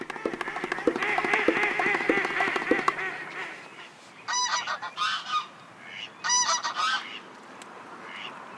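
Geese honk repeatedly at a hunting blind, a dense overlapping chorus at first, then a few separate loud calls from an isolated gander with quiet gaps between them.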